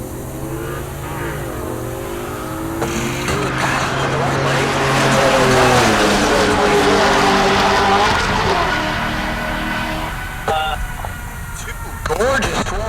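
Corvette drag racing at Heartland Park Topeka, an engine revving and roaring down the strip, swelling loud mid-clip and fading, under a track announcer's voice.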